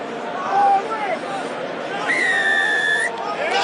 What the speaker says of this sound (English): Shrill blast of the whistle.